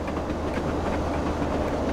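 A two-mile-long freight train rolls along in Train Simulator 2015, a steady, dense rumble of wheels and wagons with faint clickety-clack, continuous and close throughout.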